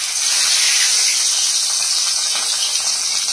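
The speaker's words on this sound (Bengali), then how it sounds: "প্রথমে রুই মাছগুলো ভেজে নিই।" Rohu fish pieces coated in salt and turmeric frying in hot oil in a wok, a loud, close, continuous hissing sizzle with no talk.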